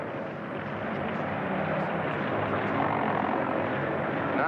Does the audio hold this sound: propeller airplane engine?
yes